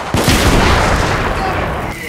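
Gunfire in The Order: 1886 video game: a dense, loud burst of rapid shots and rattling fire erupts after a brief pause and keeps going with little letup.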